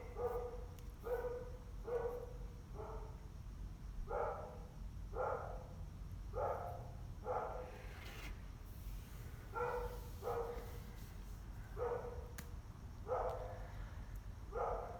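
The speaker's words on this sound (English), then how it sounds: "'Cause he doesn't usually bark like that this time of night." Next door's dog barking at night, repeated single and double barks at a steady rhythm from some distance, fairly faint over a low background rumble.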